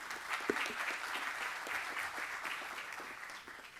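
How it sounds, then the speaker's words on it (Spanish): Audience applause at the opening ceremony of the Peru Carbon Forum 2025, a dense, even wash of clapping from a seated crowd that holds steady for a few seconds before easing slightly. "Lo recibimos con un caluroso aplauso."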